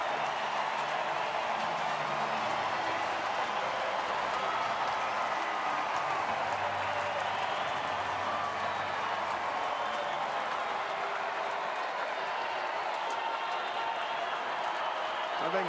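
A sellout baseball crowd on its feet cheering at a Cardinals at Giants game, a dense, steady roar with scattered clapping that stays loud throughout, with a voice talking over it.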